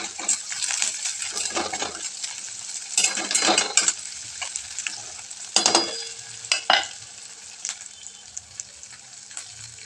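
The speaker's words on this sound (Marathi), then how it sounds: "दोन्ही पण ते छान असं परतून घ्यायचे तेलामध्ये." Potatoes and green chillies sauté in hot oil for a dry potato sabzi, a steady sizzle broken by repeated louder bursts of stirring and scraping in the pan, close and without talk.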